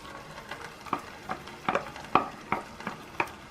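Onions tossed into a sizzling pan with meat and carrots, a series of about ten sharp stirring scrapes and clacks in a loose rhythm over a light frying hiss, close and moderately loud.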